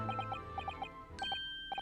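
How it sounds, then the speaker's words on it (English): Small bells in The Great Ace Attorney Chronicles jingle in quick, bright clusters of tinkling chimes, faint and repeated in short bursts with brief pauses between. "Oh, bells!"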